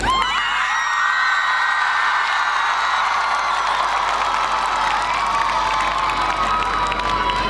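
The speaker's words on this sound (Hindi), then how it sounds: "ताली भी बजाएंगे और जरा शोर भी मचाएंगे।" A large audience claps and cheers loudly, a dense continuous roar of shouting, whooping and applause filling the space throughout.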